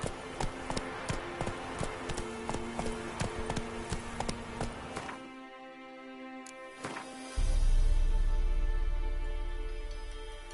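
Roach the horse gallops in The Witcher 3 with rapid, rhythmic hoofbeats, close and crisp, that stop midway, followed by a brief quiet and then a louder rumbling swell.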